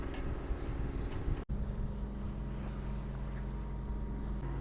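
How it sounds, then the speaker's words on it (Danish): Sailboat motoring into a headwind off the Côte d'Azur, with a steady engine drone and wind noise that continue throughout and one brief dropout, and no talking. "Så vi banker op igennem på motor."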